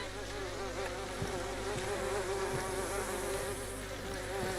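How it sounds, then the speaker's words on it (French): Flies buzzing in the video game DayZ, a dense, steady insect drone close by with wavering pitch, continuous for the whole stretch with soft low thumps underneath. "Là, j'entends des mouches, moi aussi."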